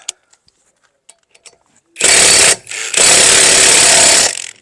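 Profitek 2000 Nm impact wrench, a heavy tool meant for vehicle service, fires in two loud close bursts of rapid hammering, a short one then a longer one, after a few faint clicks and handling sounds.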